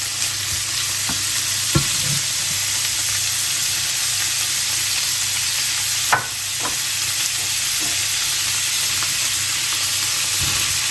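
Bacon, garlic and onion sizzle steadily in a pan over low heat, a constant frying hiss with a few soft clinks and stirring sounds scattered through, no one talking.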